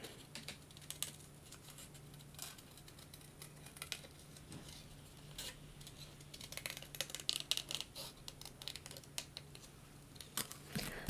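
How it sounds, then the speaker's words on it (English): Quiet, irregular snipping and crisp paper rustles, scissors working through paper in short bursts with a low steady hum underneath. "my scissors keep catching there"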